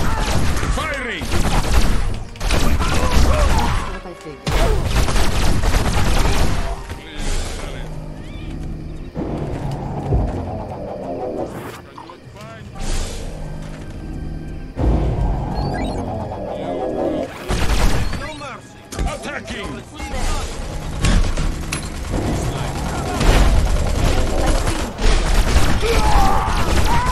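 Bursts of gunfire and booms go off repeatedly in a Crypto video game mission, dense and loud, with game voices talking in between.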